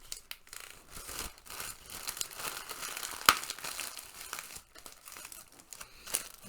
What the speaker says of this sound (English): it's the plastic bag, little lunch baggie that I put my static powder in.